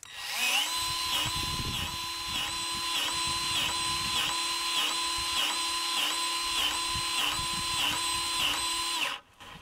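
A Milwaukee M12 cordless grease gun pumps grease with a loud, steady electric motor whine pulsing in regular strokes for several seconds, then cuts off sharply.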